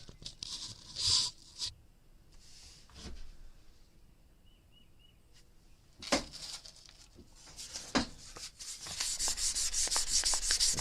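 A wooden knife handle is hand-sanded with 600-grit paper and wax in a wet-sanding manner. Quiet, scattered rubbing strokes become denser and steadier toward the end.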